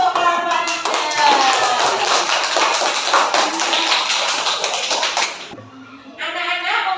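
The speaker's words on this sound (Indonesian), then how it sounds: "Tepuk tangan dulu untuk kelompok 3." A classroom of students applauds a student group in a dense burst of clapping lasting about five seconds, then fades as children's voices follow near the end.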